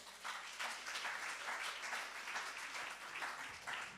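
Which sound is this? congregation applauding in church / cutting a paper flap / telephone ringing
congregation applauding in church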